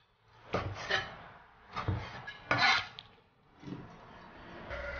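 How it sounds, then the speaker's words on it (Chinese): Several dull knife chops through cooked pig intestines on a cutting board, cut into chunks with a rolling cut, spaced irregular knocks close by in a quiet kitchen. "滚刀给它切成小块"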